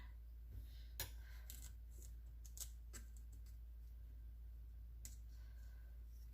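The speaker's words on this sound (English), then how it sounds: "take our scissors and cut off the excess all the way around" Scattered sharp scissor snips and clicks come in an irregular handful, quiet and close, trimming excess pie crust dough around a pie plate, with near silence between them.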